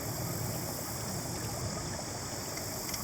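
Water slowly released from the bottom clip of a transparency tube, flowing into a bucket as a steady, continuous trickle and splash that stays even and close throughout, with no talking.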